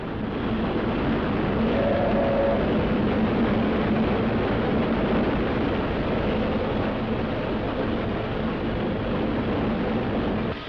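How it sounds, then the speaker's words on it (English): The Elizabethan Express train picks up speed through Newcastle and over the Tyne, rumbling steadily along the track, a continuous loud drone with a faint tonal whine early on, no talking. "the train picks up speed on the track through Newcastle City and over the Tyne"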